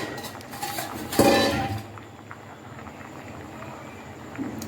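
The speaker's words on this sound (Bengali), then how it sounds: "ঢাকাটা তুলে নেব, দেখব কতটা সেদ্ধ হয়েছে।" A metal lid lifts off a pot of boiling potatoes with a bright clang and brief scrape, followed by a soft, steady bubbling hiss close by, no speech.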